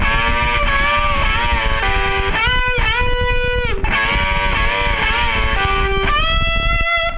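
A distorted electric guitar plays a sustained lead phrase, with notes bending up in pitch and quick pull-offs between them, loud and continuous.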